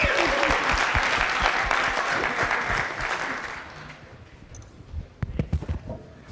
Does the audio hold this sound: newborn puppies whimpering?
no